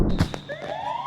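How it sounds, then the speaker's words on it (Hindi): A fire brigade siren in a TV advert, wailing upward in pitch over a dense background of thumps and clatter, fairly loud. "बाहर वो फायर ब्रिगेड, कुछ हुआ है क्या?"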